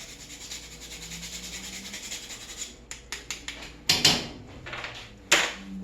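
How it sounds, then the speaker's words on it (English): Fresh nutmeg rasped against a grater while cooking Bolognese sauce: after a quiet stretch, a series of short scraping strokes comes close up, with a couple of louder, harsher passes near the end. "I'm going to put another little fresh shaving of some nutmeg in there"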